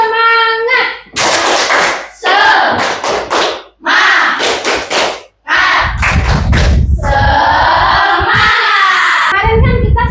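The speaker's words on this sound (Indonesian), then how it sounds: "Tepuk semangat." A school class of children claps out a rhythmic cheer in the classroom, loud close bursts of patterned clapping alternating with children's chanting voices.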